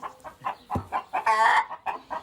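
Farm hens in the Châtillonnais countryside of Côte-d'Or, Burgundy, cluck close by in a steady run of short calls, rising into one longer, drawn-out cackle midway.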